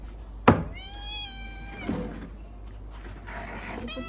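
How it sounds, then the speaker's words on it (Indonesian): A kitten gives a few distinct meows at home, starting with a sharp thump then a rising, drawn-out mew followed by softer ones, close and clear over quiet room noise. "Anak kucing kan teman."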